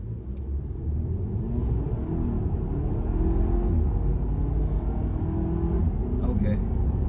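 A 2021 Audi Q5 Sportback pulls hard under acceleration in dynamic mode, its engine a steady, rising low rumble heard from inside the cabin, with some faint clicks and a voice murmuring beneath it.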